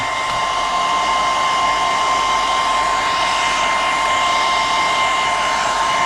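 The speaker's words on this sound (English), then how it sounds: "now I'm just going to give it a little bit of heat all over" A heat gun or hair dryer blows steadily while warming a vinyl body decal on an ARRMA Fireteam RC car body, a loud, constant whirring hum with a high tonal whine, no speech.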